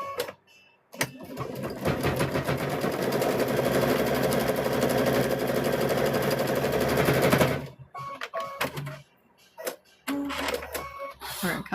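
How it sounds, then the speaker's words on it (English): Domestic sewing machine running a long, steady straight stitch along a quilt binding, a dense mechanical whir that holds for several seconds, then stops and gives way to short bursts of stitching and handling sounds. "Now we're going to sew a stitch across the top."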